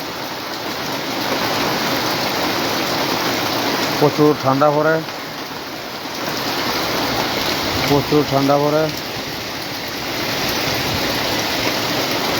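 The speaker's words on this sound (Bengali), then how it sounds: "প্রচুর বৃষ্টির আওয়াজ দেখো" Heavy, continuous morning rain falls in Comilla as a loud, steady wash, broken by two brief stretches of someone talking.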